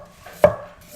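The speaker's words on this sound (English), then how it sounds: "How aggressive does this chopping sound right now" Two sharp, loud knife chops on a cutting board, spaced about half a second apart, close and crisp against a quiet kitchen background.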